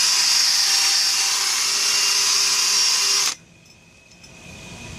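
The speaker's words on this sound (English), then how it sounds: "Clean it up with my drill and a steel cup brush" A power drill fitted with a steel cup brush whines and grinds loudly and steadily against cast iron for about three seconds, then cuts off abruptly, leaving faint quiet room noise.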